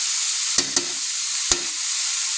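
Vegetables for lumpiang gulay with bean sprouts sizzle steadily in a pan, a loud, even hiss broken by three sharp clacks of a spatula stirring, with no voices.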